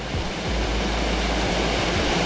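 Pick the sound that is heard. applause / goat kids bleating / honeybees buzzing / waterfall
waterfall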